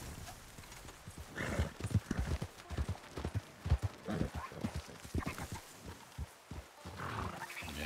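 Horse hooves clip-clopping in Red Dead Redemption 2, a fairly close, uneven rhythm of hoofbeats with a few snorts and whinny-like calls mixed in, and no talking.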